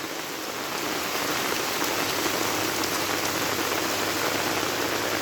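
Heavy rain pours down steadily, a dense, continuous hiss of drops drumming on surfaces close by, with no voices.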